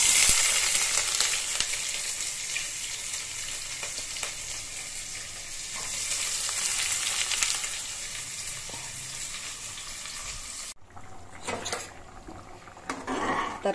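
Chopped onion sizzles and crackles loudly in hot oil with mustard seeds in a pot, the start of a vegetable sagu for chapati. The frying hiss runs steadily, then drops suddenly near the end to quieter clinks and stirring.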